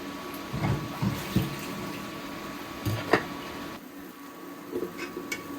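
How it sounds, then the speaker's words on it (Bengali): Water runs and splashes in a kitchen sink as dishes are washed in a double basin, with intermittent clinks and splashes over a steady trickle. The sound drops quieter near the end. "এই যে দুই বেসিনে একদম থালা বাসন ভরে গিয়েছে এগুলি এখন সব আমি ধুয়ে ফেলি"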